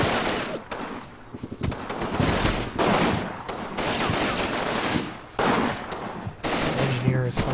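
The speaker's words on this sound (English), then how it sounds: "The engineer is firing." Rapid bursts of small-arms fire from an engineer in a WWII Italy combat game battle at Vallebruca, sharp repeated cracks spread through the clip with occasional talk and battlefield clutter.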